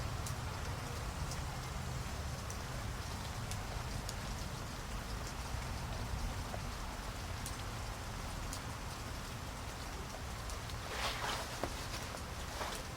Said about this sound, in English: zoom into the downspout real nice and slowly with the water coming down